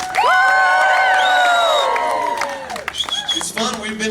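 A crowd at a live band show at Knott's Berry Farm bursts into loud, sustained cheering and whooping with high shouts, then settles into scattered claps and calls.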